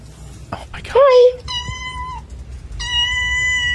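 A kitten left alone meows repeatedly, giving several rising, wailing cries in a row over a faint background murmur.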